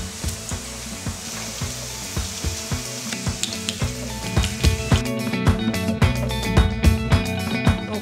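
Dough balls fry in hot oil with a loud, steady sizzle, while the clatter and scrape of stirring and handling grows busier midway through.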